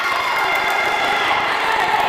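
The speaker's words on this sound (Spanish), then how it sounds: "Hinchada de Asturiano, el banco de Asturiano que aplaude, que motiva." Asturiano supporters and bench at a women's futsal match, a steady crowd roar of cheering and shouting that holds loud and even throughout the short stretch.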